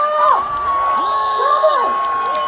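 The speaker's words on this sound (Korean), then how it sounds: "이제 진짜 대한민국을 향한 이재명 대통령 후보의 힘찬 연설을 뜨거운 박수와 환호로 맞아주십시오." Campaign rally crowd at a presidential candidate's launch event cheering and shouting, with high whoops and voices rising and falling over a dense, continuous roar close by.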